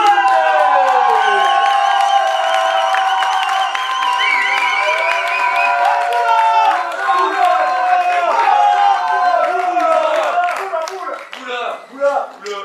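A crowd in Poitiers applauding and cheering for a performer named Nawal: loud clapping mixed with shouts and high whoops that rises, holds, then breaks up toward the end.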